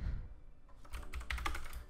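Quick, light clicks of a computer keyboard being typed on during a game, a soft close patter rising into a denser burst of keystrokes, with no talking.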